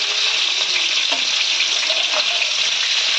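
Cauliflower florets fry in hot oil in a pan, a loud continuous close sizzle with faint scraping as the pieces are moved about.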